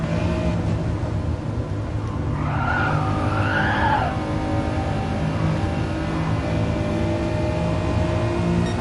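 A full-size executive sedan lapping a race track at speed: a steady, loud roar of engine and road noise, with a short tire squeal midway through.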